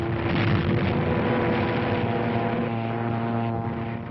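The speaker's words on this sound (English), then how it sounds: "There's a Nazi dive bomber letting one go." A Nazi Stuka dive bomber attacking near the North African front lines in a 1943 newsreel: a loud, steady propeller drone with a low rumble that holds throughout, close and continuous.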